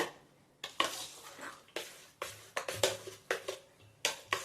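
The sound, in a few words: mixing sabudana papad batter with spices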